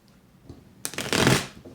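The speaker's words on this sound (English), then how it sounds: "One more shuffle." Tarot cards shuffled by hand in a quick riffle, a brief papery burst lasting about half a second after a quiet start, close and alone.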